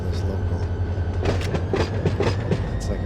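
A long Union Pacific local freight train rolls over rails on the Arvin Branch near Bakersfield in Run 8 Train Simulator, with a steady low engine drone and rhythmic clickety-clack of wheels over joints.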